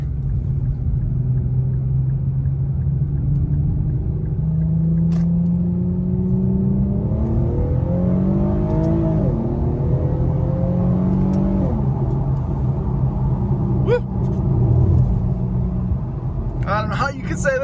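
A BMW M2 cruises on the interstate, its engine and road noise a steady loud rumble from inside the cabin, with gear-change rises in pitch under intermittent talk.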